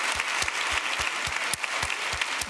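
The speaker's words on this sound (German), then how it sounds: "Großen Applaus." Steady applause from an audience at a podcast event at the Landtag of Baden-Württemberg, a dense continuous patter of many hands clapping with a few sharper nearby claps.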